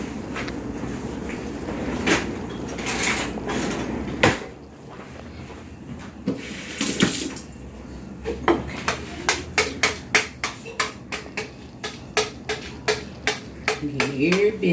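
Doughnut batter being scraped out of a bowl, a series of repeated short knocking and scraping strokes, fairly close, following some busy kitchen handling sounds.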